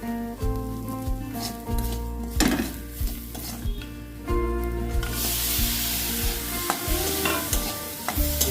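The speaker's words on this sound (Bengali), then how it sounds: "একটু নাড়িয়ে নিতে হবে মটনটা একটু নাড়িয়ে নিতে হবে" Mutton with ginger, turmeric and salt is stirred in a hot pot, with rhythmic scraping and knocking of a spoon against the metal over a continuous sizzle, close and loud, ending with stronger frying hiss.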